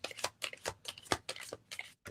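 A deck of cards being shuffled by hand, a series of quick riffling bursts and soft slaps repeating at an uneven rhythm, close and fairly quiet.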